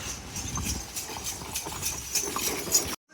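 Steady clip-clop of horse hooves on a hard surface on Gili Air, Indonesia, a regular trotting rhythm with faint background street noise.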